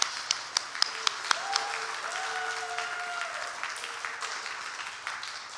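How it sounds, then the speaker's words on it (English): Applause from a church congregation at a Unitarian Universalist flower communion service, starting with a few sharp claps and building into steady clapping across the room, moderately loud and indoors with no talk. "now we can give them an applause"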